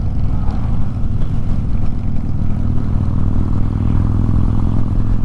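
A Harley-Davidson Deluxe motorcycle engine runs close by with a loud, steady low rumble that holds an even pace without revving.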